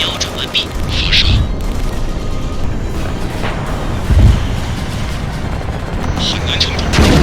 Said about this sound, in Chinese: 敌战车瞄准完毕， 发射！